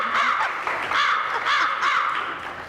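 Several harsh crow caws repeat in a steady rhythm, loud and close, with no talking.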